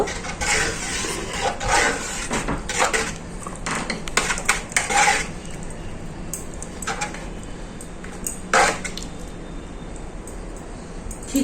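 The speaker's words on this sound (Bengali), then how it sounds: "খিচুড়িটা এবার একটু ঘেটে দেব" Paneer khichuri with ghee stirred in a metal pot, a spoon scraping and clinking against the pot in repeated strokes, clearest early on and then softer, close and moderately loud without speech.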